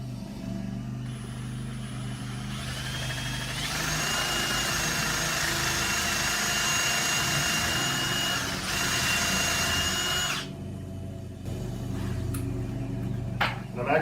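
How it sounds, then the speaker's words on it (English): A drill fitted with a countersink bit bores holes in scrap wood for a clamp rack, its steady whining motor running for several seconds, then cutting off, with brief shorter bursts of drilling after. "putting a few holes in it. And a countersink bit."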